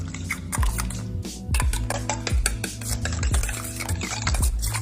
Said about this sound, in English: Then we just whisk that up.